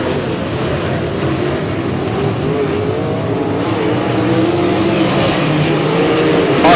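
Sprint cars of the POWRi WAR Sprint Car League roar around Humboldt Speedway, a loud, sustained engine drone that rises gradually as the pack passes, with no voices over it.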